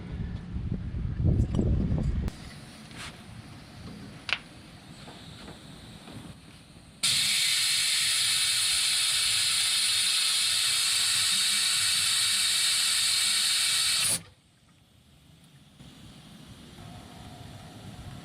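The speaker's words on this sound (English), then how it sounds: "I'm going to try and blow back through this with the air compressor" Air compressor blowing back through the diesel fuel tank drain of a 1990 Ford F350 IDI, a loud steady hiss lasting about seven seconds after quieter clattering and knocks, then cutting off abruptly.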